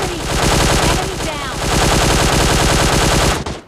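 Rapid automatic gunfire sprays in a PUBG Mobile Lite match, a loud, dense stream of shots in steady rhythm nearly throughout, with a brief dip in the middle before resuming and stopping at the end.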